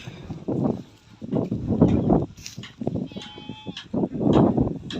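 Goats bleat repeatedly nearby in a pasture, a series of wavering, nasal calls overlapping one another, with a faint high whine briefly in the background.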